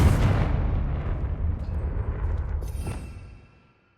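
A Confringo blasting spell explodes in the Hogwarts Legacy video game, a loud, broad boom that rumbles steadily for about three seconds before cutting off into silence.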